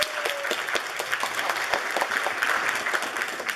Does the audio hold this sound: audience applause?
yes